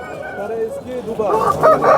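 A rooster crows at a busy Sunday poultry market in Namangan, a drawn-out cock-a-doodle-doo close by, rising and strengthening toward the end over background market noise and faint voices.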